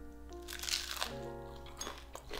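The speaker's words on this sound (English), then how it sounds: "take a bite, you get hit with that nice crispy crunch" A bite into a crispy rice salmon sushi waffle makes crisp crunching and crackling, close to the mouth, with a few sharp bursts under a steady faint background hum.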